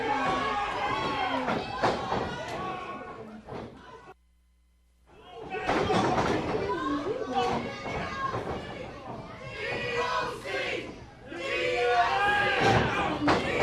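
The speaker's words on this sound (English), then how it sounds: "You can hear that the crowd is behind DOC." Arena crowd at a multi-man wrestling match with two referees roars and shouts in loud, busy waves, briefly dropping out near the four-second mark before surging back, with voices mixed through the noise.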